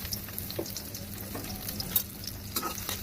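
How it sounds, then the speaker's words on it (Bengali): Chopped onion, green chili and garlic fry in oil for a dried-fish bhuna, giving a close, continuous sizzle with light scraping taps from stirring. "দিয়ে এগুলোকে কয়েক মিনিট ভেজে নেবো"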